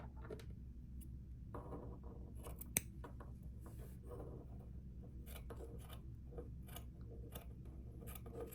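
Scissors snip through strands of yarn while trimming a crochet scarf, with a series of soft, close cutting and rasping sounds in a quiet room. No one speaks.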